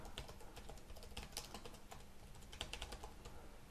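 Rapid, steady typing on a computer keyboard, entering a search keyword into an SEO tool; dense clicking keystrokes close up, continuous for a few seconds with no voices.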